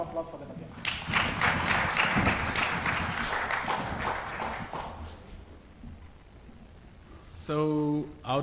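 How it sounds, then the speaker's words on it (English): Conference audience breaks into sustained, dense applause lasting several seconds, loud at first then tapering off, with a voice speaking after it fades. "a big round of applause for them again"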